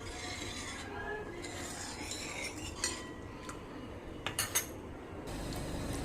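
A spoon stirs toor dal amti, salted, in a pot. It makes quiet scraping and rubbing sounds with a few light metallic clinks against the pot over a steady background hiss.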